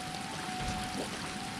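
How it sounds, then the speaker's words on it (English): Water flows in the Water Temple of Zelda: Ocarina of Time, a soft, steady pouring stream heard quietly on its own for a moment. "I hear water flowing."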